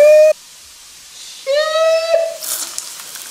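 An electric bicycle charger burns indoors, giving off a sharp high whistling hiss that stops abruptly, then returns louder and more sputtery with crackling noise. No one speaks over it.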